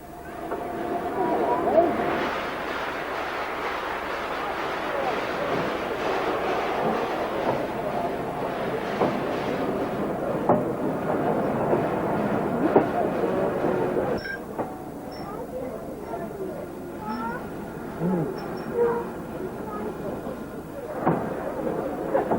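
A pair of LMS Princess class steam locomotives working the Settle-Carlisle line, captured on old VHS tape as sustained rumbling rail and engine noise. Louder passing sounds come early, with lighter clanking later.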